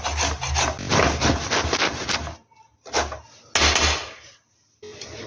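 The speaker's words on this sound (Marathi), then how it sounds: "या किसणीने आपल्याला कैरी छान अशी साली सकट किसून घ्यायची आहे" Raw green mango with its peel being grated on a hand grater, close rough scraping strokes in bursts separated by short pauses.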